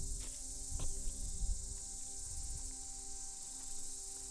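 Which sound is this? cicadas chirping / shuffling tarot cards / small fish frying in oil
cicadas chirping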